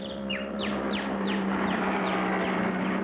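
A bird on a 1950s children's puppet show chirps in a quick series of short, sharp descending calls, steady and fairly close over a constant background hum.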